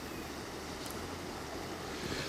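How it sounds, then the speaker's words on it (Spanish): Floodwater pours over a waterfall formed after a heavy storm in María Teresa, Santa Fe, a loud, steady broadband rush of water with no pauses or voices. "esta cascada que estamos viendo"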